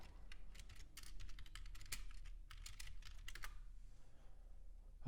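Rapid clicking on a computer keyboard, a dense run of close, crisp keystrokes over a low steady hum, thinning out toward the end; no one speaks.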